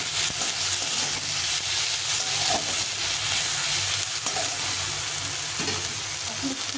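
Chili powder and spices fry in oil as the base for a fish curry, producing a continuous dense hiss close by, with occasional faint stirring knocks.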